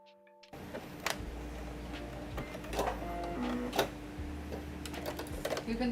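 An overlocker sews a seam on a slip dress, starting abruptly and running in a steady mechanical whir with small clicks and knocks. The sound is close but moderately quiet, and a faint voice can be heard.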